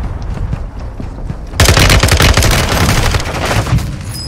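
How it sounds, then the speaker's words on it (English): Video game gunfire erupts after a quieter opening, loud rapid automatic bursts crackling densely for several seconds with a heavy low-end thump, sustained without talk over it. "How many times do I gotta shoot him?"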